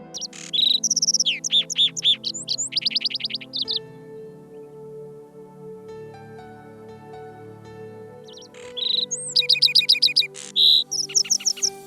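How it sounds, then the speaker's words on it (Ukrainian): Bright, trilling birdsong of a skylark in two bursts, fast warbling phrases near and clear, with a quiet gap and a low steady hum between them. "Дзвінки пісні виспівує жайворонок навесні."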